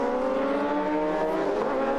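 Racing motorcycles, a big Ducati and a 600 Kawasaki, scream past on a street circuit, their high-revving engines a loud, sustained whine with shifting harmonic pitch.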